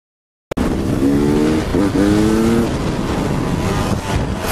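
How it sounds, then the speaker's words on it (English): A sheriff's police motorcycle races past during a high-speed pursuit, its engine note loud, steady and climbing in pitch as it passes close by, with a continuous roar of road and traffic noise around it. "that's a sheriff bike"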